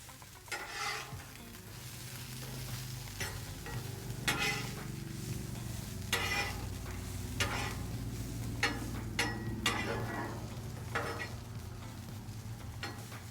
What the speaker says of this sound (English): Give these a little bit of a turn, flip around, starting to caramelize pretty quick.